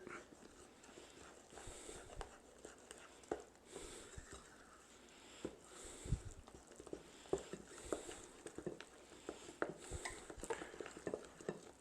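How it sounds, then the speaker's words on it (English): Ingredients stirred together in a mixing bowl make a quiet, soft repeated scraping and patter, with faint clinks of a utensil against the bowl at an uneven rhythm. "So let's just stir those together."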